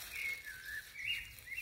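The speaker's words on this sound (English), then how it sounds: "You can hear the sound of birds" Faint, distant birdsong: thin high whistling notes drifting and sliding, quiet and sustained over soft background noise.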